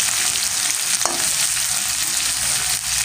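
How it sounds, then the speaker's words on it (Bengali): Chopped onion fries in a hot pan for radish-greens cooking, a steady loud sizzle running throughout with one brief clink near the start, and no voices. "এবার আমি এর মধ্যে অ্যাড করে দিচ্ছি পেঁয়াজ কুচি।"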